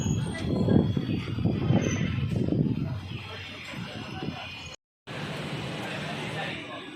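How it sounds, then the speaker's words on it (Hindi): The Kota Hisar Express pulls into Churu Junction station, a low rolling rumble of coaches with faint wheel noise and station murmur, loudest early then easing, with a brief silent gap near the end. "440 किलोमीटर का डिस्टेंस कवर करने के बाद हमारी ट्रेन पहुंची है चूरू जंक्शन रेलवे स्टेशन"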